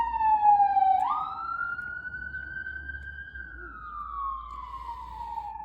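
A police siren wails right outside in a neighborhood, close and loud, sweeping up and then slowly falling in pitch over a low rumble.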